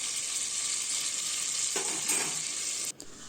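Food sizzles in hot oil in a pan as pieces are turned for a cooker biryani, a steady close hiss with a brief stirring rustle midway before it cuts off abruptly.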